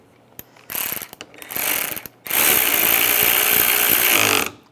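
Bumper cover bolts on a 2006-2009 Mercedes-Benz E350 being snugged down with a ratchet, short bursts of rapid clicking followed by a longer steady mechanical whir, close and loud with no talking.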